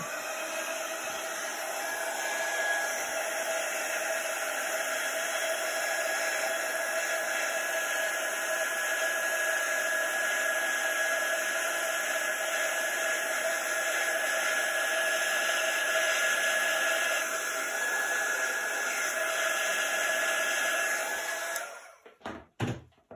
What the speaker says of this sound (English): So we're gonna use the um, quick dry tool on this a little bit